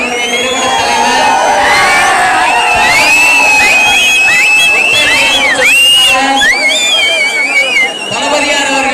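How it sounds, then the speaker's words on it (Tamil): A large crowd at a memorial gathering in Paramakudi cheers, whoops and shouts continuously, with loud whistles and voices layered into a dense, close roar. "அதிக கூட்டமா இருக்கு."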